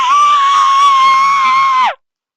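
A voice imitates a character with a fear of heights screaming at the top of his lungs, one sustained loud high-pitched shriek lasting nearly two seconds before cutting off into silence.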